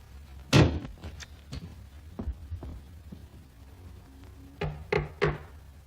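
Knocking on a draper shop door in a 1933 film: several dull raps spaced irregularly, then a quick cluster of firm knocks near the end, over a low steady hum.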